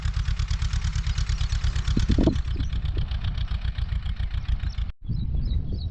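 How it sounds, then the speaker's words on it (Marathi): A tractor engine runs nearby with a loud, steady low chugging rumble and rapid rhythmic pulses, briefly cutting out near the end before resuming. "चालू आहे ट्रॅक्टर"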